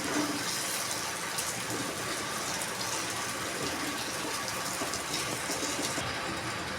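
Water pours steadily into a cooking pan during preparation of a vegetarian doi potol curry, a continuous broadband gushing wash lasting several seconds with no talk over it.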